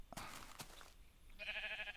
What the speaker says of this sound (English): There's quite a few sheep here.